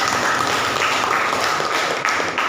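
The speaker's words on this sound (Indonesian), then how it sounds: "Kasih aplaus dulu" A classroom group applauds together, a steady loud patter of clapping lasting a couple of seconds.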